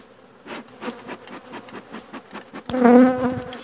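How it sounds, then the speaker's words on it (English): Honey bees buzz steadily at a hive while a split is being made, a low droning hum swelling louder and denser near the end as more bees join in. "You gotta give them bees so they can work, go get pollen and honey"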